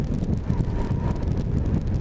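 Wind gusts buffet the microphone on a windy day while cycling, a rough low roaring rumble that swells and dips throughout without talk.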